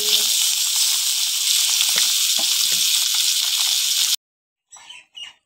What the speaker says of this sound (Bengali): মাছগুলো একটা একটা করে ভেজে নেব